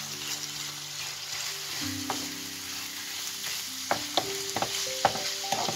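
Chicken filling with chopped parsley frying over high heat in a pan, a constant sizzle broken by several sharp clinks and scrapes of a utensil stirring, close and without talk.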